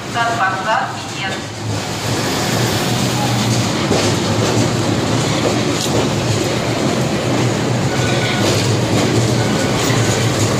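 A metro train arriving at Kuntsevskaya station rumbles and clatters loudly along the platform with a steady low drone and rattling wheels, brief tones sounding near the start.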